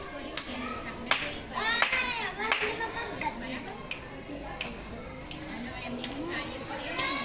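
Children clap their hands and snap their fingers in a counting game, a series of sharp separate claps and snaps in an uneven rhythm, with talk throughout.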